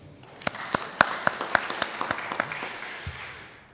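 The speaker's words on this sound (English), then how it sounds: "Maybe you can clap for our chairman." Sparse clapping from an audience at a corporate governance career fair, saluting the chairman; a handful of distinct, sharp claps at a steady rhythm over a soft background of more hands, fading out after about three seconds.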